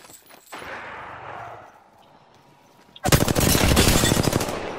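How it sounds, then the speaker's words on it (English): Rapid automatic gunfire from a video game erupts loud and dense in the second half, preceded by quieter game ambience and a brief burst near the start. "he's shooting at me"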